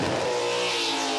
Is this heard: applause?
no